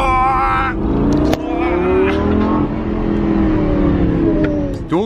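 A Lamborghini with a dual-clutch gearbox accelerates hard, its loud close engine roaring up through gears with a quick shift blip partway, cabin noise throughout.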